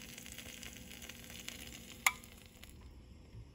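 A Cuban sandwich sizzles in a pan, a steady soft frying hiss with one sharp tap or clatter partway through, fading toward the end, with no talking.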